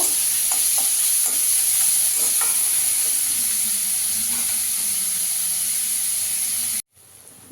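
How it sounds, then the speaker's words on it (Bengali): Two grated onions fry in a pan, giving a loud, continuous hiss and sizzle with occasional stirring scrapes, steady throughout before cutting off abruptly near the end. "পেঁয়াজটাকে একটু লাল করে ভেজে নেব।"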